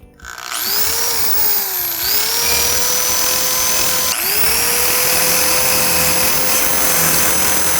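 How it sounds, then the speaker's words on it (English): A power drill whines steadily at high speed, close and loud, widening a hole in an animal's horn, its pitch dipping briefly twice as the bit bites in. "I'm gonna wiggle the drill in this hole"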